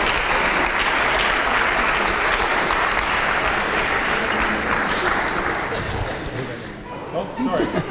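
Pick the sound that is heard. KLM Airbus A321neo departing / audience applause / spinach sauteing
audience applause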